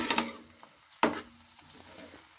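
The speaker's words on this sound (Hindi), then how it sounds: "तो चलिए डाल देते हैं इसमें कुछ ग्रीन चिलीज" Green chilies dropped into a pan with okra and onion, a sharp sizzle burst at about one second after an earlier clatter, then a quieter steady frying hiss.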